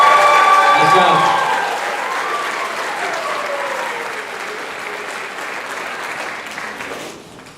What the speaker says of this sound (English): a big round of applause for the Tri-State members